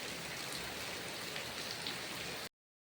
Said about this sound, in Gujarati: કેટલા દિવસનો સખત વરસાદ આપણે એવો ને એવો અંધરાધારો વરસે.